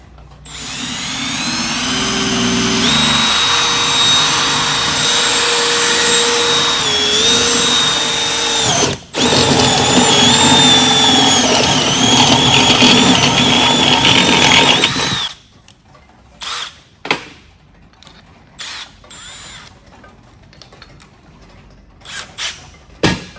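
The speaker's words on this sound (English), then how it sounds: "I'm going to sand each one of them down just a little bit." A power tool sanding down parts for a dry sump oil system gives a loud, steady, whining grind for about fifteen seconds, then short, intermittent bursts with gaps of quiet.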